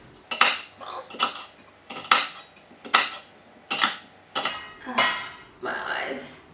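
A kitchen knife chops a peeled vegetable into cubes on a board while cooking, about eight evenly spaced crisp thuds in steady rhythm, close up.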